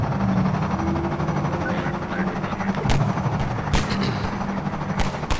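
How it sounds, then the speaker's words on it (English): Enemy gunfire in Half-Life 2, sharp shots cracking out irregularly over a loud, continuous rumble of game noise, with a few distinct reports standing out near the end. "And they started shooting at me"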